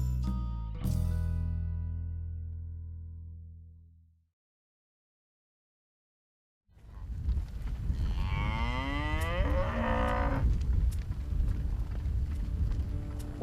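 Cattle on a ranch moo in a drawn-out, wavering bellow heard fairly close over a rough outdoor rumble. It follows a decaying musical sting and a few seconds of complete silence.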